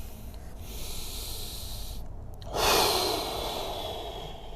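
A person takes a deep breath in and then a long, audible breath out while holding a golf stretch, close and fairly soft, with no speech.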